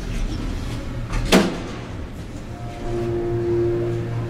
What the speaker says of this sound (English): Loud motor.